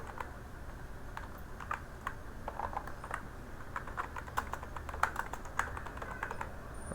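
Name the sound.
typing C++ code on a computer keyboard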